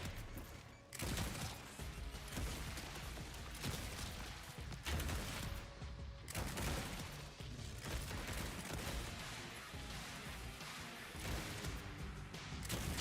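Dense, sustained gunfire and blasts from a video game shotgun battle, loud and continuous with crashing impacts and mechanical clatter throughout, no voices.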